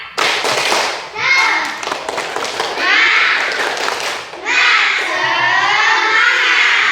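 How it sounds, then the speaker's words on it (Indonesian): Schoolchildren in a classroom perform a rhythmic clapping chant together, bursts of claps and chanted voices in several loud phrases. "Kalau begitu ibu minta tepuk semangat ya, 2 kali."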